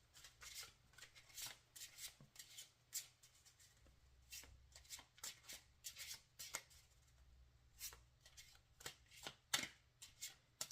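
Onirim game cards being shuffled by hand at close range, a quiet run of crisp riffling bursts and soft slaps repeating unevenly over about eleven seconds with no talk.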